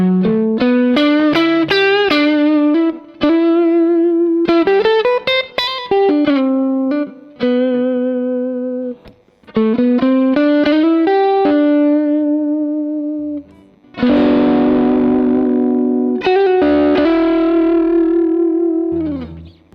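Electric guitar played loud through a Schwarz Supercharger pedal on its fat setting, giving distorted single notes and short phrases with heavy bass, sustained tones and brief pauses, with no talk.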